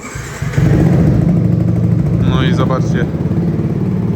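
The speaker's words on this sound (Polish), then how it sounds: "Wystarczy przekręcić kluczyk, czerwony guzik zapłonowy w dół, rozrusznik pykamy." A 2013 Yamaha YZF-R125 motorcycle engine turns over on the starter and settles into a steady, loud idle, with someone talking over the running engine.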